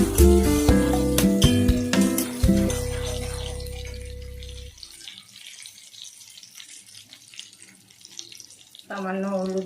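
A little water is added to a cooking pot while making potol posto, a pointed gourd dish with poppy seed, after chilli and turmeric have gone in. Clattering and tonal sounds come first, then a soft running trickle with a quieter background.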